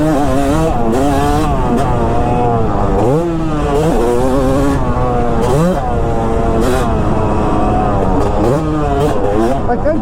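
A Yamaha YZ250 two-stroke dirt bike revs hard and loud up close, its engine note climbing, dipping at shifts and climbing again through the gears with a raspy, continuous buzz.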